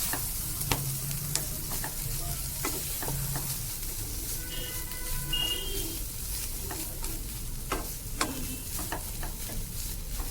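Bottle gourd leaf paste fries softly in a pan with a constant low sizzle, while a utensil stirs it with scattered light scraping clicks against the pan.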